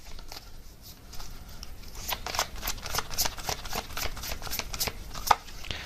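Tarot cards are shuffled close by in quick, papery riffles and flicks. The snapping bursts grow denser partway through, with one sharper slap near the end and no voices.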